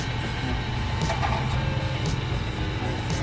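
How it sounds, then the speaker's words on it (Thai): A computer power supply fan spins up after the AC cable is plugged back in, giving a steady whirring hum with faint intermittent clicks throughout. "อันนี้คือเสียงพัดลมหมุนนะครับ"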